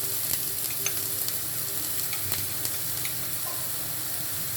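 Onion frying in a hot pan for Japanese fried rice, starting to burn, a continuous loud sizzle and hiss with occasional crackles and stirring scrapes, close up and without talk.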